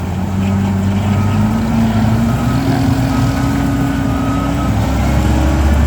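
Steady loud diesel drone from the Italian engine of a Case 9000 wheeled sugarcane harvester running at idle, a constant low hum with a slowly rising pitch, close by and without speech.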